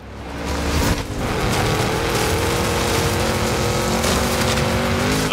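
Car engine roaring steadily in the racing game Forza Horizon 5, a loud continuous drive with tire noise starting after a brief rev, heard alone without talk.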